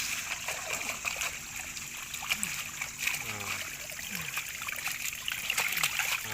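Water splashes and trickles steadily onto a carpet mat laid under dug material for gold recovery, a continuous wet spattering with small gurgles, fairly quiet and close.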